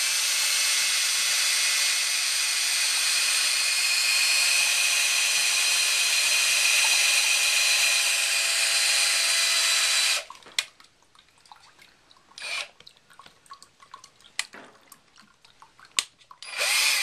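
Power drill boring a hole into a coconut: a loud, steady high-pitched whine for about ten seconds that stops abruptly, followed by faint scattered clicks and knocks.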